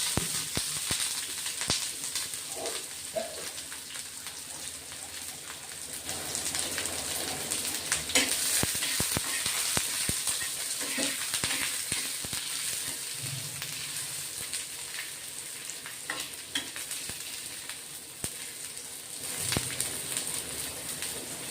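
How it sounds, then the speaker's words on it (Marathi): Long-cut sliced onion fries in hot oil for a Marathi brinjal curry, a steady hissing sizzle running throughout, with occasional soft stirring scrapes, moderately quiet and close. "तेल टाकायचं, थोडं लवकर भाजला जातो कांदा."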